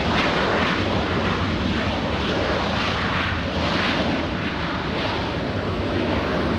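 An Alaska Airlines jet at LAX airport gives a loud, continuous roar of jet engines with broad rushing noise, steady throughout and close by, with no talk.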